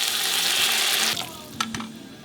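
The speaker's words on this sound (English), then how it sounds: "And now we're going to put the hot boiled water." Hot boiled water gushes into a pot of spiced chicken for Kuwaiti-style machboos, a loud steady pour that cuts off after about a second, followed by a few faint clinks and drips.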